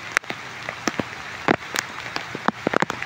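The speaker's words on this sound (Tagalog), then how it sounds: "Ayan, umuulan na naman, no?" Rain falling outdoors, a steady hiss broken by scattered louder drops tapping nearby surfaces, with no voices.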